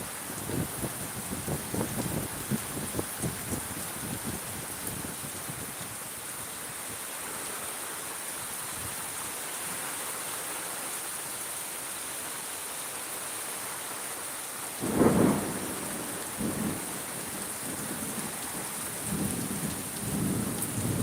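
Heavy rain pours steadily in a windy thunderstorm near mango trees, a dense continuous hiss broken by a loud thunder crack partway through and gusty rumbles afterward.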